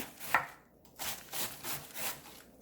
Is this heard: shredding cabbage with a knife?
yes